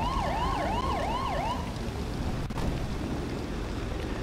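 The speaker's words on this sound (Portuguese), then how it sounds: "Aí é o caminhãozinho do bombeiros." Fire truck siren in GTA V wails in rising and falling sweeps for about a second and a half, then stops, leaving a constant loud rumble of traffic and engine noise.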